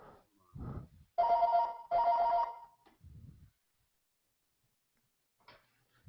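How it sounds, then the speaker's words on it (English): A phone rings twice in quick succession, each ring a bright warbling burst under a second long, with some muffled low thumps around it and quiet afterward. "And there's my phone. Hold on."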